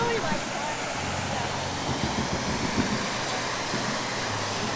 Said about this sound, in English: This is the last time we'll see that water coming out of that fountain like that.